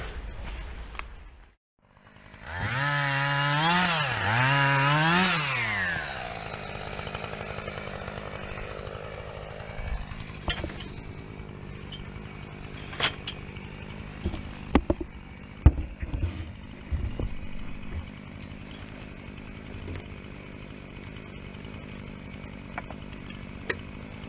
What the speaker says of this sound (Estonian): See on Saks Tolmar 114, 81. aasta saag.